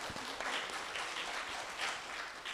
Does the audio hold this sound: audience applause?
yes